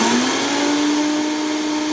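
A Vitamix high-speed blender grinds oats into flour with a steady, loud, high-pitched whirring roar that rises slightly in pitch at the start and then holds constant.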